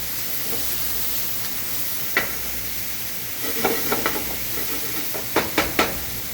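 Vegetables for a penne chicken primavera sizzle steadily in a pan, a continuous close frying hiss with a few sharp clinks of a utensil against the pan near the end; no one speaks.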